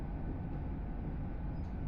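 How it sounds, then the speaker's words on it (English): Steady low rumble of an electric AVANT high-speed train running from Toledo to Madrid, a continuous close interior drone with no voices. "These trains are electric, silent, and fast."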